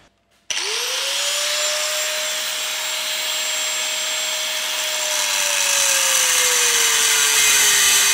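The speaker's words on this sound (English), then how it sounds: "now I've literally cut this out with an angle grinder" An angle grinder spins up abruptly and cuts through metal on the flywheel of a Ford Mondeo Mk5 2.0 diesel, a loud, continuous high whine with a steady pitch that sags slightly toward the end.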